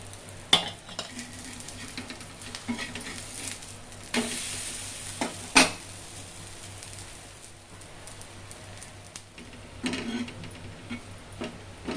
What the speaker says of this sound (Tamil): கொஞ்சம் சிம்மில் வைங்கம்மா வேகட்டும் லைட்டாக கொஞ்சமாக சுற்றி எண்ணெய் ஊற்றிக்கலாம்